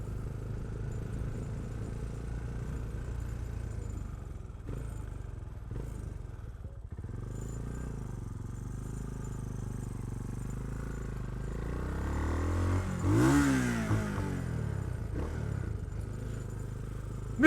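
A 2020 Bristol Classic 400i motorcycle is ridden with a steady low engine drone that swells into a sharp rev and gear change near the end, heard up close with some rattling.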